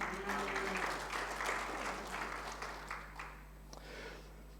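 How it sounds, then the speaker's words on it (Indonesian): A church congregation at an Indonesian Sunday service claps together, a moderate burst of applause that gradually fades over a few seconds over a steady low electrical hum. "Berikan tepuk tanganmu"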